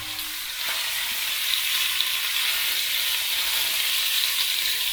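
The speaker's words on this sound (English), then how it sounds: "we're just going to brown it off" Beef browning in hot oil in a small pan for rendang, a loud, steady, close hiss of frying with a faint clatter near the start and no talking.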